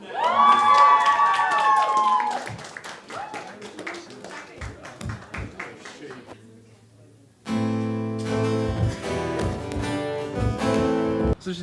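An audience cheers and whoops with scattered claps as two performers are welcomed on stage. The shouts fade to near quiet, then loud music abruptly begins.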